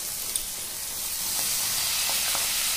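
Soya chunks fry in a hot pan as a sauce mixture and about a tablespoon of water go in, giving a steady, close hiss of sizzling that swells slightly louder toward the end, with no talking.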